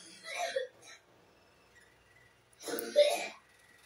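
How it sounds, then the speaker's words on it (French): A child coughs in two separate fits in a quiet room, each a short cluster of harsh, breathy bursts with a pause of silence between them. "désolée pour la toux de mon fils"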